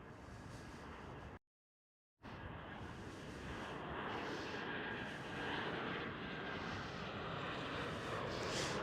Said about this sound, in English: Once again, an E190.